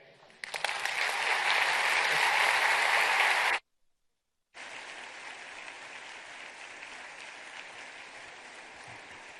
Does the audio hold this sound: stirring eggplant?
no